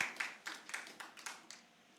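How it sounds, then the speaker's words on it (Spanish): A church congregation applauds, a quick run of sharp clapping bursts that rise and fade in waves, fairly faint and distant in the room, with no voices over it. "Alguien dele un aplauso fuerte a esa verdad"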